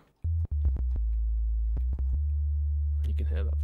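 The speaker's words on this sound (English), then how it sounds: "I'll change the wave with something quite soft, so a sound, sine wave." A low, soft sine tone from an Arturia AX73 synthesizer hums steadily, broken by a few brief clicks and cuts, with a short burst of other sound near the end.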